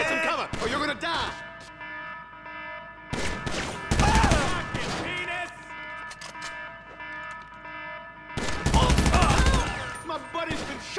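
Gunfire in the GTA Online video game comes in heavy bursts of rapid automatic shots, loud and close, with quieter gaps between volleys and voices shouting over the action.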